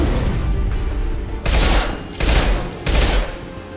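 Gunfire erupts in a Mass Effect 2 battle, a dense, continuous roar of shots with three heavier blasts hitting in quick succession, loud and close throughout.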